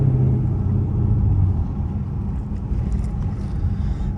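A 480 hp Dodge Charger SRT8 drives along with a deep, steady engine rumble and road noise, heard continuously from inside the car with no voices.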